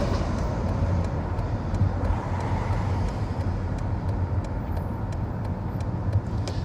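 Car traffic heard from inside a moving vehicle in Los Angeles, a steady broadband road roar with engine rumble and passing-vehicle swells, continuous and fairly close, with no talking.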